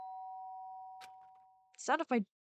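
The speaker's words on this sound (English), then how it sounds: "the sound of the doorbell forced its way into my room" A single electronic doorbell tone in the video game Danganronpa: Trigger Happy Havoc sustains and slowly fades, followed by a couple of faint clicks and then a short spoken exclamation.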